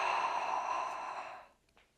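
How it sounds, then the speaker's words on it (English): A single deep, audible yoga breath, a long close breathy rush that holds steady and then fades away into near silence. "Big inhale here."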